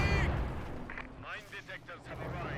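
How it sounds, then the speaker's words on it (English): Artillery barrage and a bundle grenade going off in Company of Heroes 2, a burst of loud booming impacts at the start followed by scattered crackling blasts, with a voice talking underneath. "Barrage one way, bundle grenade the other."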